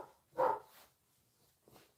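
A dog gives one short, fairly faint bark from a distance, followed by a weaker second yip about a second later in an otherwise quiet room.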